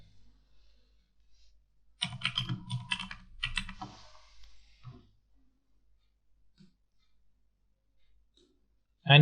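Keys clatter as a caption is typed on a computer keyboard, a quick burst of close clicking lasting a few seconds, then a handful of scattered single taps in near quiet.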